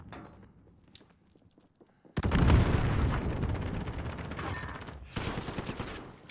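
A grenade goes off in Call of Duty: Modern Warfare after a quiet stretch. It is a sudden loud, close blast that roars on and then gives way to a second burst of gunfire-like crackle.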